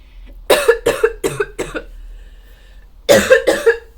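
A person coughs in close, harsh fits: four rapid coughs, a pause with quiet breathing, then three more hacking coughs.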